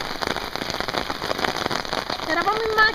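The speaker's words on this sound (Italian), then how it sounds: "10 minuti fa ha cominciato a piovere e guardate cosa cazzo sta succedendo." Torrential rain pouring down in Melbourne after a 42-degree January day, a dense steady hiss of heavy drops close by, with a brief whine near the end.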